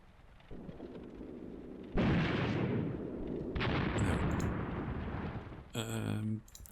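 Bursts of gunfire and heavy booms aimed at a destroyed half-track in Graviteam Tactics, a WWII tactical war game, loud and rumbling for several seconds, with a short sharp mechanical burst near the end.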